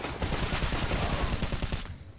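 Rapid, loud gunshots in Counter-Strike: Global Offensive, from a Desert Eagle pistol, fired in a quick continuous volley that cuts off abruptly near the end.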